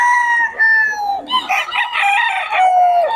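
Roosters for sale at a chicken market in Bocaue crow loudly and close, with overlapping long, wavering calls and some clucking in between.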